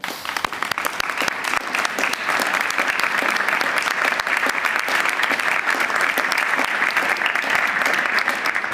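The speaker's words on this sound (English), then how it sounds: "I'd like you to join me in a round of applause to thank them." An indoor audience at a New York City mayoral bill-signing on dangerous vehicles claps for families of traffic violence victims: loud, sustained applause from many hands, close and continuous throughout with no talking over it.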